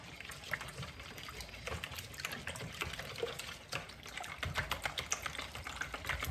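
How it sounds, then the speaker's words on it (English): A small whisk beats cake batter in a bowl, making soft, rapid, irregular clicking and tapping that stays quiet and close. "Just going to use a little whisk and mix that all together."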